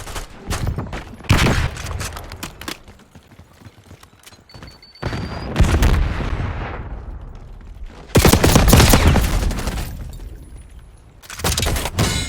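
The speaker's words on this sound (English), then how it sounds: "Flashbang incoming!" Gunfire and a flashbang grenade in Call of Duty Black Ops 6 multiplayer, with loud bursts of rapid shots and sharp blasts coming in several clusters, separated by quieter stretches of ambient noise.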